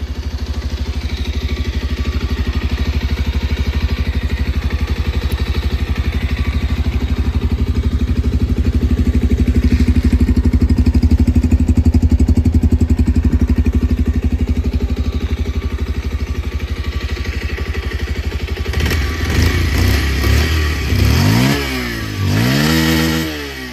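A 2023 Bajaj Pulsar 125 Neon motorcycle with an e20 engine runs close by, idling in a steady drone for most of the stretch before a few rising revs near the end, with no talk.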